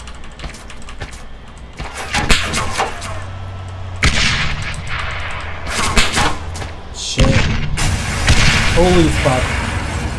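Explosions tear through base walls in Arma 3 with the Epoch mod during a base shootout: a string of loud, heavy booms and thuds rolls in waves over several seconds, with a voice briefly exclaiming amid the blasts.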